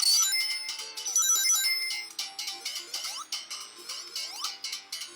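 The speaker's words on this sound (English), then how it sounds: "ring chimes are all over the place" Chiming ring-collect jingles in Sonic the Hedgehog 2, bright rapid metallic tones repeating in quick bursts, then settling into a regular pattern of short pinging chimes with rising sweeps, loud and with no talk.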